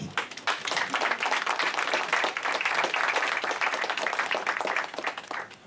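An audience at a francophone press gathering in New York applauds a speaker, a dense, steady burst of clapping that carries on without a break, with some faint voices underneath.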